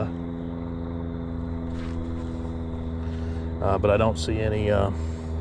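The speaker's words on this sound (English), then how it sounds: "I'm gonna let this plane get by a little bit farther" A steady low droning hum of an airplane passes in the distance at night, with a person speaking briefly near the end.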